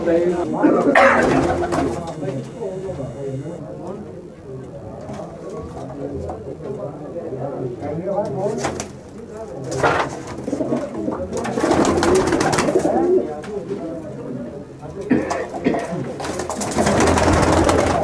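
Pigeons kept by a pigeon fancier coo in soft, low repeated calls, with people talking nearby over them and occasional bursts of louder noise.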